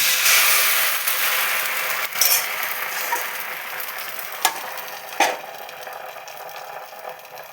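Appam batter sizzles steadily on a hot dosa griddle, a continuous broad hiss with a few faint clicks of utensils, close and moderately loud, no voices.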